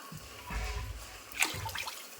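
Water is poured into a cooking pot for making rava, with a faint splashing gush that peaks briefly midway over a low background rumble.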